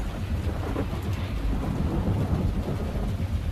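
Heavy rain pours steadily at night with deep, rolling thunder rumbling underneath, a dense, loud wash of sound throughout with no voices.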